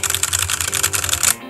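Quick burst of typing on a Machenike K500 mechanical keyboard fitted with red switches, dense clicky keystrokes heard up close for just over a second.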